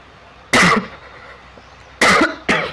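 Three sharp coughs, one alone and then two close together, stand out against a quiet background.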